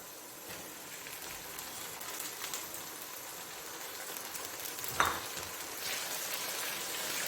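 Ginger, garlic and tomato fry in a pan for an egg maghaz masala, giving a steady, even sizzle throughout with one brief clack of a utensil partway through.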